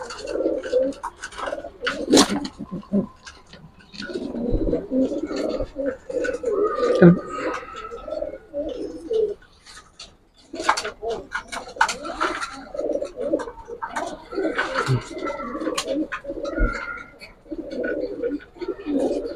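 Racing pigeons coo repeatedly in soft, throaty bursts close by at a pigeon farm, mixed with people talking and chattering throughout.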